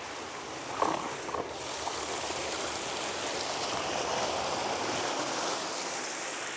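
Water runs steadily along an irrigation channel beside an old noria waterwheel, a broad continuous rushing wash with one or two faint knocks early on.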